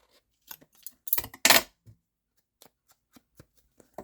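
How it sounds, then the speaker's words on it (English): Scissors cut across the top of a paper envelope in a few crisp snips and rustles, with a louder burst of cutting and paper handling midway, then faint scattered clicks and taps of paper nearby. "I'll go ahead and cut that off."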